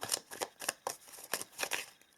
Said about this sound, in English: Just for the fun of it, I want to see what card we get if I shuffle here.